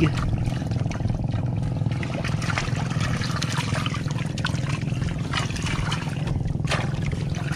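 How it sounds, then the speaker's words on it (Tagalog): Water pours steadily into a container holding freshly caught tilapia, a continuous close trickling and splashing that runs unbroken throughout. "Lalagyan ko yan ng tubig."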